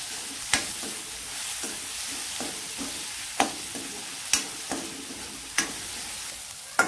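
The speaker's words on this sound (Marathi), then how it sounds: "टोमॅटो चांगला भाजलाय, आता आपण त्यात टाकत आहोत लसणाच्या पाकळ्या" Roasted tomato and garlic cloves frying in a pan for methi besan, a soft continuous sizzle broken by sharp spoon knocks and stirring scrapes every second or so, close and alone.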